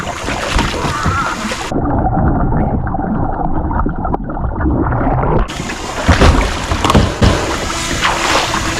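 Water sloshes and gurgles close to the microphone as a kayak is flipped upright after a fall into the water, with splashing bursts near the end and muffled underwater-sounding stretches, wind buffeting throughout and no talk.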